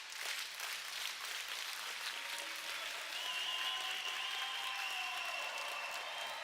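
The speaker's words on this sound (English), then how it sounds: "The clap gets started." A packed stadium crowd claps steadily before the kickoff of a women's Euros final, dense continuous applause with a thin whistle rising through it, no voices standing out.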